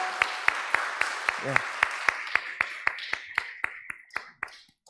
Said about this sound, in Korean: 우리 축복의 박수를 보내줍시다.